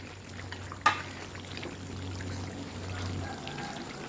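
Water poured into a pan while cooking a stir-fried chili duck dish with pumpkin: a steady, soft liquid pour running alone for about four seconds, with a brief sharp knock near the start.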